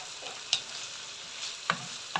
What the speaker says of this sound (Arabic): نقليو المكونات مليح